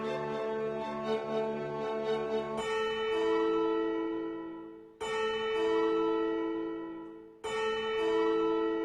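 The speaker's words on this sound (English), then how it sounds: "the sound of a church bell?" In the video game Fernz Gate, a church bell rings with three slow, resonant strikes a few seconds apart, each leaving a long ringing decay heard on its own.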